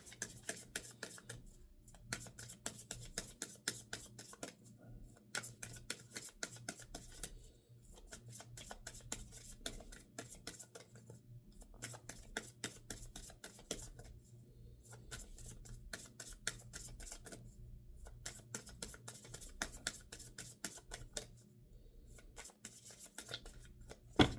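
Tarot cards are shuffled and drawn by hand, giving soft repeated riffling and rubbing with short pauses, quiet and close, with no talking.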